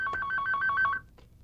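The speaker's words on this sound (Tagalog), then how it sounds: "pakisagot yung telepono" A telephone rings in a rapid electronic trill, about a second of alternating two-tone pulses, then cuts off, followed by a faint click.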